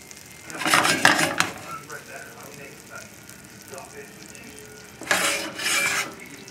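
A breaded chicken cutlet slides into a pan of hot butter over a moderate flame, giving two bursts of loud, close sizzling and pan scraping with a quieter hiss between them.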